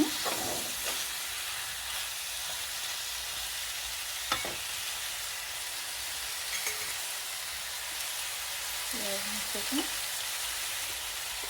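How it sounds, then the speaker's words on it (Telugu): Okra and prawns fry in a pan, giving a steady close sizzle with a few light stirring clinks and scrapes; no one speaks. "ఒక 2 మినిట్స్ వేగనిద్దాం ఫ్రెండ్స్ వీటిని"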